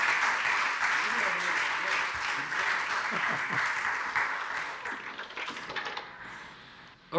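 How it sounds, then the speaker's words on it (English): Audience applause following a keynote at the GCC 2017 conference, a dense, steady wash of clapping from a large hall that holds for several seconds, then thins and fades toward the end. "Big applause."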